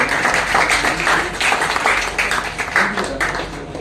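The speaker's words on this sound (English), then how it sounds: "Can we have a round of applause?" An audience at a college startup poster presentation gives a short round of applause, a dense patter of many hands clapping at once, moderately loud and steady throughout.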